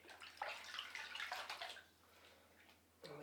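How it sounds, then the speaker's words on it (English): Cotton cloth dipped and swished in a basin of water, with soft splashing and dripping for about two seconds, a quiet pause, then another brief slosh. "we're going to get our cotton cloth in some water"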